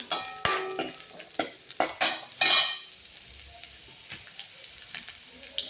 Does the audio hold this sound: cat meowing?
no